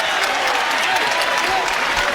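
Crowd at a Freedom Hall basketball game in the TBT tournament cheering and applauding loudly and continuously, a dense roar filling the arena.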